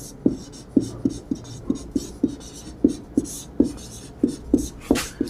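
Chalk or marker writing on a board during a Hindi lecture on directive principles, heard as a steady series of short taps and scrapes at a brisk, uneven rhythm, close and fairly clear, with no talking over it.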